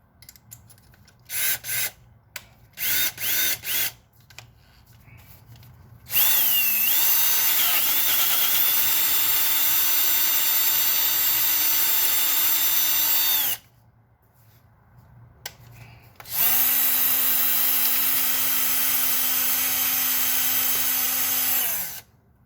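A power drill with a G bit runs into the intake of a 2003 Toyota Tundra 4.7 V8, first in short trigger bursts, then in two long, loud, high whining runs with pitch dips as the bit bites.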